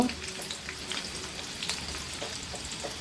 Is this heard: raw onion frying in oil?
yes